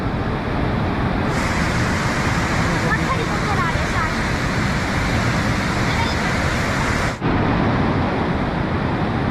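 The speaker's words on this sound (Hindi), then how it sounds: "पानी ऐसा खतरनाक आ रहा है।" Fast-flowing flood water roars steadily and loudly at close range in Kullu beside a Tibetan colony, a dense unbroken rush that briefly dips near the end while someone talks over it.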